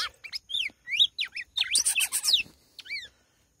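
Clear whistled song of a red-cowled cardinal with rapid, sweeping chirps and trills, fairly close, in short bursts separated by brief pauses; no talking.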